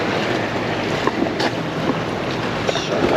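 Steady rush of wind and sea swells around a cruising sailboat rolling in brutal swells, a constant broadband wash with occasional faint knocks and no talking.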